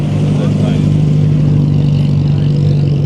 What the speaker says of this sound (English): Nice little MG.